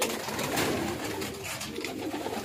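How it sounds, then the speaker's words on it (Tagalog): Pigeons coo softly in a racing pigeon loft holding stock breeder birds and hens, with low murmuring calls repeating over a faint, steady background. "40 mahigit tong mga stock bird niya dito, yung mga breeder niya, mga hen."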